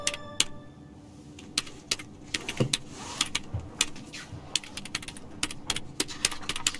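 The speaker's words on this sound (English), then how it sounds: "The librarian's torturing her keyboard." A librarian typing on a computer keyboard in the video game Broken Sword 2.5, rapid irregular key clicks in bursts, close and crisp over a quiet background.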